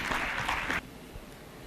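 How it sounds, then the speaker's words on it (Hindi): Loud applause from an audience at a community women's group anniversary gathering breaks off abruptly partway through, leaving a quieter room murmur behind. "जोरदार तालियों से इनका सत्कार करते"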